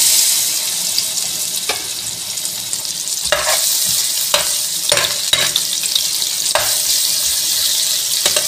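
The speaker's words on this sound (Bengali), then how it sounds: "এখন আমি পেঁয়াজ দিয়ে দিচ্ছি।" Onions frying in hot soybean oil for noodles, a steady bright sizzle with scattered pops and occasional clinks of stirring, close and continuous.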